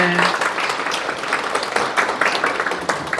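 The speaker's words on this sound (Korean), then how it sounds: "큰 박수 부탁드립니다" Audience at a Sunday lecture breaking into brisk applause, a dense burst of clapping close by that fills the whole moment without talk.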